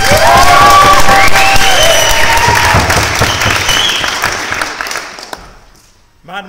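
A debate audience breaks into loud applause with cheering and whoops, strong at first and then fading over several seconds until a voice speaks near the end.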